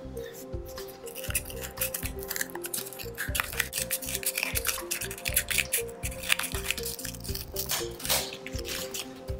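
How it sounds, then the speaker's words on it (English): Scissors snip through cardboard while cutting out a traced circle, a close, steady run of crisp crunching cuts in quick irregular rhythm with no voices. "Then you need to take your scissors and cut it out."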